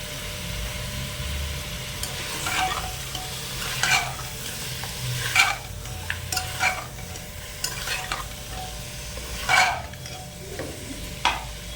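Chicken being stirred in a frying pan after black pepper powder is added for a red chicken curry, with repeated scraping strokes of the spoon over a steady, soft sizzle.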